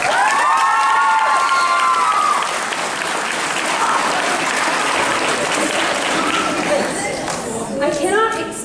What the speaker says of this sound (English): I'd also love to give a huge round of applause for everyone who helped in putting tonight's ceremony together